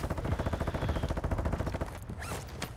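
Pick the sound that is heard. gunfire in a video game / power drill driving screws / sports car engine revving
gunfire in a video game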